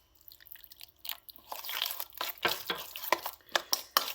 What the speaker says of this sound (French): Alors ici pour bien mélanger, on rajoute un tout petit peu d'eau.